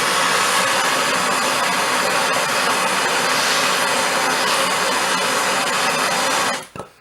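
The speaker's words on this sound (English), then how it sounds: "if you notice this torch, just like an oxyacetylene torch, your hottest point is going to be at the tip of your blue flame" Blowtorch roaring steadily as it heats a stuck bolt, a loud, close, continuous rushing flame that runs alone for several seconds before cutting off abruptly near the end.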